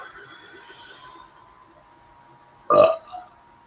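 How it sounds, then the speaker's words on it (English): A single loud in-game character burp from The Legend of Zelda: Tears of the Kingdom, short and gurgly with a brief tail, following quieter game background tones. "Nice burp."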